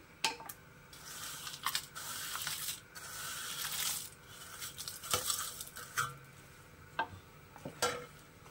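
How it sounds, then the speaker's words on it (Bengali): Fried leftover roti pieces being stirred into milk kheer in a pan, giving close, irregular scraping and wet squishing strokes with brief soft sizzles, no talking. "দিয়ে ভালো করে আমি নাড়তে থাকবো"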